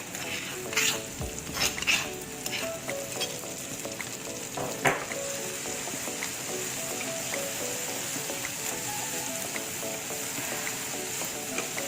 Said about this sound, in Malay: Kita tumis sampai ikan bilis tu sedikit garing